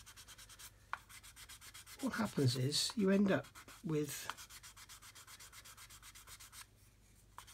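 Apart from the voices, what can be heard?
sanding with 600 grit sanding stick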